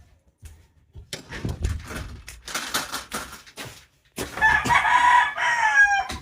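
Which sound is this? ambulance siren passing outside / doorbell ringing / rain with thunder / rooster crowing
rooster crowing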